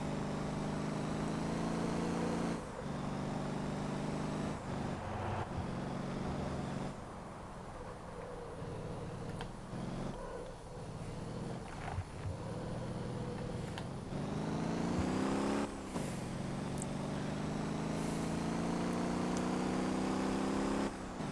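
Car engine droning steadily while driving in the Motor Town game, a taxi run with shifts in engine pitch as it accelerates and eases off, continuous and moderately loud with no talk.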